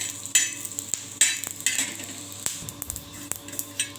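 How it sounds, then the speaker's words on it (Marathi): Spices roast with a little oil in a pan, heard as a soft, faint sizzle beneath repeated scraping and clinking as a spatula stirs and taps against the metal pan. "असे सगळे मसाले भाजून घ्यायचे थोडं थोडं तेल टाकून"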